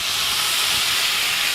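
Water sprinkled into a hot pan of ivy gourd stir-fry sets off a steady, close sizzling hiss that holds evenly throughout, with no voices.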